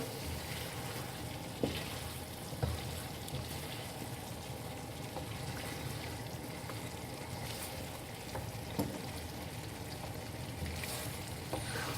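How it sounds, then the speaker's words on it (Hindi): Masala with chopped green chillies and ginger fries in a pan, splashed with water as it cooks, giving a steady, even sizzle with a few faint clinks and no talking. "भूनते हुए हम इसको साथ साथ पानी का छींटा भी दे रहे हैं।"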